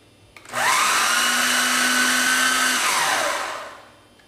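A food processor blends hummus with lemon, a single loud motor burst of about three seconds spinning up quickly, holding steady, then winding down to quiet.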